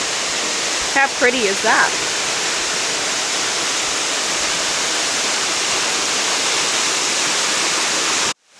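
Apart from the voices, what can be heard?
waterfall in Brisbane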